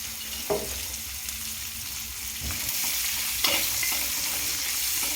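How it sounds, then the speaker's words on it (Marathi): Chopped green chillies and garlic hit hot oil on a tava for a village-style quick bitter gourd dish, giving a loud close sizzle with a few sharp stirring scrapes over continuous frying. "जे काही आपण हिरवी मिरची आणि लसूण कट केलेला आहे ना आता तो परतायला टाकून देणार आहे आपण तव्यावरती"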